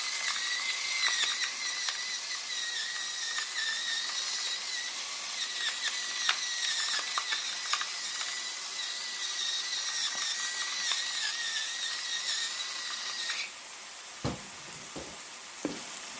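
A pepper mill grinds pepper onto sausage and mushroom stuffing with a steady, close ratcheting crunch that runs for many seconds, then stops and is followed by a few light knocks.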